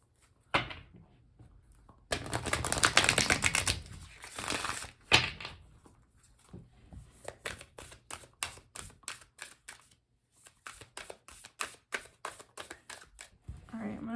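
Tarot cards are shuffled in a quick burst, followed by a series of soft, sharp taps and flicks in a quiet room, with occasional faint speech.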